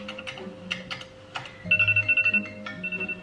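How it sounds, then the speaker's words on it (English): A phone alarm rings during an early-morning university routine. After a few scattered clicks and taps, the alarm starts as a close, bright run of rapid repeating beeps, pauses briefly, then repeats. "Oh my god, I had so many alarms."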